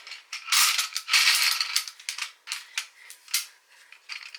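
Scissors snip paper photo pieces for a homemade Guess Who game, close and crisp, with repeated cutting strokes: dense at first, then spaced individual snips and clicks.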